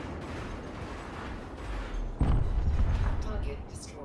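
Burst laser fire from four small burst lasers on a ship in Elite: Dangerous, a dense run of rapid shots that swells and grows louder partway through, with a heavy thump midway and a steady wash beneath.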